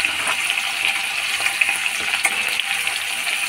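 Green beans fry in a pan with a continuous, bright crackling sizzle, close and fairly loud, with small pops scattered through it and no voices.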